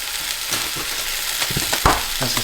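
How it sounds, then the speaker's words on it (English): Plant-based sausage browns in a pan for a chili, a close, moderate sizzle broken by a few scraping and clattering stirs. "That's the sausage we're going to brown up."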